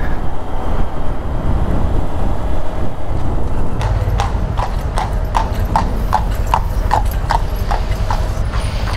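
Horse hooves clip-clop steadily on a road in a fast, regular rhythm that sets in partway through and stays close and clear over a continuous low rumble, with a faint voice in the background.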